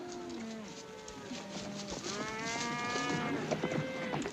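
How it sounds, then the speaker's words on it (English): Several cattle moo in long, overlapping low calls, one after another, with more of the herd lowing in the background. "Cattle will be glad to get a drink"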